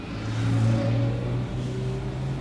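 A Hyundai i10 with a 1.1 engine running on petrol gives a steady close-up engine drone from inside the car while driving, with a hum that dips briefly and then carries on evenly.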